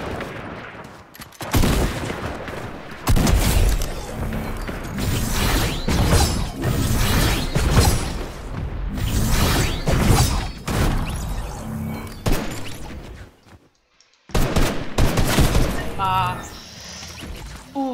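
Gunfire from a weapon in the video game Fortnite, set on Mars, comes as loud dense bursts of rapid shots and mechanical clatter, broken by a brief quiet gap, with players talking over it.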